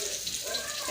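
Onions frying in a pan for a coconut milk sauce, giving a steady, soft hiss and crackle that runs evenly throughout at a moderate level, with no voices.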